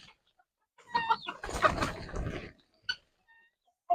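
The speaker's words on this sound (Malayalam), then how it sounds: "മുകളിലൊക്കെ കാണുന്ന നാടൻ കോഴിയാട്ടോ" A few native chickens cluck close by in short scattered bursts, with quiet pauses between the calls.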